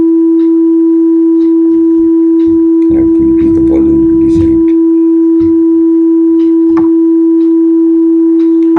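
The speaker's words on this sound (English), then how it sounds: "The sine wave is a very basic wave." A steady pure tone hums continuously at constant pitch, with a person talking briefly over it partway through.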